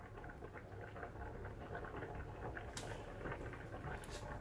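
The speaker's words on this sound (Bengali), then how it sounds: "এবার এটা আমি 2 মিনিটের মতো ফুটতে দেব। ঢাকা দেব না, এখন খোলাই থাকবে।" A vegetable curry boils uncovered in a pot, a faint, steady bubbling and popping patter close by that runs on without pause, with no voices.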